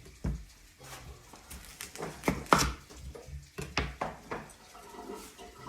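Onions being chopped on a board in a home kitchen, a series of irregular knife thuds and taps, close and moderately loud, with faint kitchen clatter between strokes and no talking.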